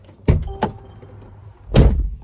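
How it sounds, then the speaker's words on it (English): Door of a 2024 Sprinter van opened and shut, a sharp latch clunk and a softer knock followed by a heavier thud, close by and alone without talk. "I'm going to open the door"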